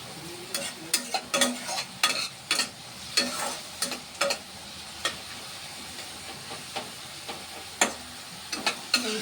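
Food frying dry in a pan in a dish of mushrooms and prawns, a soft sizzle broken by repeated scraping stirs that come in uneven bursts, close and moderately loud.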